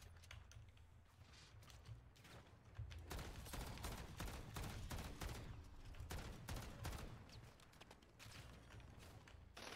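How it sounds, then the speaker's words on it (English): Distant sniper gunfire in a video game, sharp isolated cracks recurring irregularly over a steady ambient game bed with mechanical rattles, no voices. "There is a sniper shooting me from like a kilometer away."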